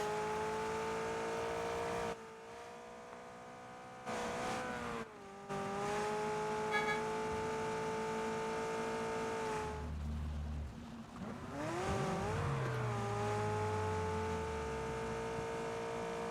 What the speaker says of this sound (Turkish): Araba sürmeye devam ya.